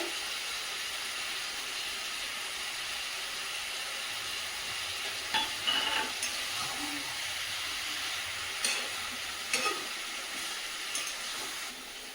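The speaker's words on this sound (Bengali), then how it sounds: "আদা রসুন বাটা দিয়ে দিলাম, আবারও ভালো করে কষিয়ে নেব" Onion, ginger and garlic paste frying in oil for chicken curry, a soft steady sizzle and hiss with a few clinks and scrapes of stirring, faint and without talk.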